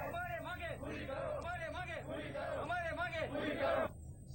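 Protesters in Kashmir chant slogans against the local MLA, the administration and the R&D department. A loud, close crowd repeats the same call in a steady, rhythmic cadence that recurs every half-second or so, then cuts off abruptly near the end.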